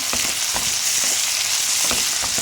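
Onion frying in a pan while being stirred for an egg capsicum fry, a constant loud sizzle with periodic soft scraping strokes from the spoon.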